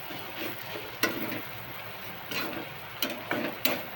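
Potato bhaji stirred and sautéed in a pan, a low steady sizzle broken by a few sharp scraping clinks of the spoon against the pan.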